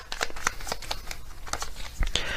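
Tarot message cards are shuffled close by in quick papery riffles and flutters, a few bursts of slapping and sliding card stock with brief pauses, no voice over them.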